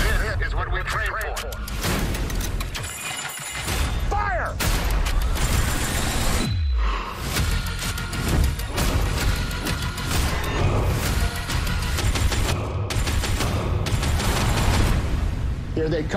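Heavy WWII naval gunfire and artillery from the film Greyhound, loud booms and bursts of firing mixed with dramatic music and shouted voices throughout.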